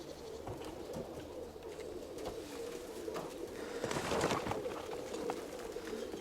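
Domestic pigeons startled by a passing hawk coo and stir in a loft, a continuous low murmur of cooing with a brief swell of flapping and bird noise midway, no talking.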